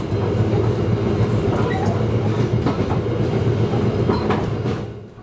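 Sembrani passenger train on the Jakarta–Surabaya line rolls steadily along the rails, a loud continuous rumble with faint rhythmic clatter from the wheels, fading slightly at the end.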